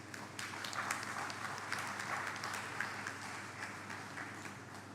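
Town hall audience applauding a fourth-form student speaker from Jamaica College, a steady wash of clapping from a crowd that holds at an even, moderate level throughout.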